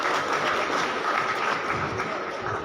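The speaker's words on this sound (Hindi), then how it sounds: "तालियां थोड़ी कम बजी" A crowd at an International Yoga Day speech event in Indore claps in a steady, dense burst of applause that fills the whole moment without a pause.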